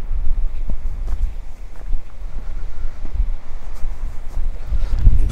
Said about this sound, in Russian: здесь очень сильный ветер.